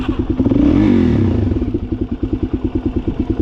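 A Suzuki DRZ motorcycle engine, bought dead, idles close and loud with a steady rapid thumping putter after a brief rev at the start.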